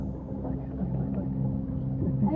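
A boat motors along a river, its engine giving a low, steady hum at moderate distance while people speak faintly over it.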